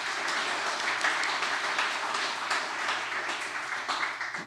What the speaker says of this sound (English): Now we give them a round of applause.